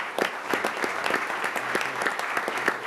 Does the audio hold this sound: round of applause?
yes